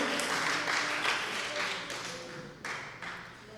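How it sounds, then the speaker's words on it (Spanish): A church congregation applauds, a dense wash of clapping that swells and fades while a preacher keeps speaking over it. "Denle un aplauso a Cristo, amados hermanos"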